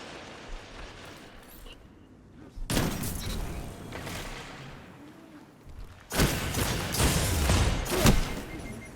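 Bursts of hand cannon fire from the DFA weapon in Destiny 2, two dense loud clusters of shots with thuds and mechanical clatter, separated by a quieter stretch of game ambience, no talking.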